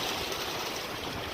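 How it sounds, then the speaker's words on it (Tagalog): Water from a residential swimming pool pours down and flows in a steady, dense rush. The sound is broad and continuous, like a stream or small waterfall heard close up, with no pauses. "Ang tubig sa taas umaagos."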